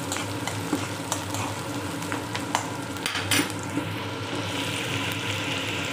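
Onions fry in a pan toward golden brown with a dense, steady sizzle, broken by scraping stirs and small clatters.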